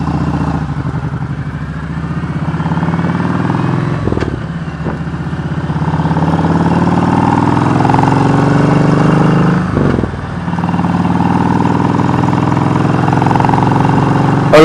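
Kawasaki Voyager motorcycle with Cobra aftermarket pipes idling steadily up close, a loud, even low rumble with a couple of brief dips in the rhythm, no talking over it.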